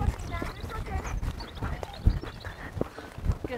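Horse hooves clip-clop in a steady trotting rhythm on a sand arena during a riding lesson, heard close while people talk over them.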